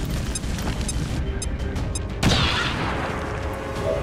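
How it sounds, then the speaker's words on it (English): A grenade explodes in the XCOM 2 video game as one sudden, loud blast midway through, over a continuous rumbling background of game sound. "I'm gonna throw the grenade."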